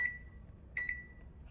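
A microwave oven heating a paper plate and napkin gives a faint, thin electronic beep, then two more close together, over a low steady hum in a quiet room.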